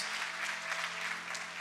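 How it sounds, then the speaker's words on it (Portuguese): A church congregation applauds a volunteer during a Sunday service, with steady, dense clapping filling the room at a moderate level throughout. "Uma salva de palmas para você, abençoado."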